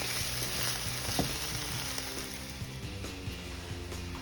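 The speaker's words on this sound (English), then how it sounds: "Now I'm gonna add in this coleslaw mix. And I'm going to stir to combine." Coleslaw mix and minced garlic are stirred in a hot pan, giving a steady sizzle with soft scraping and stirring knocks throughout, close and continuous with no talking.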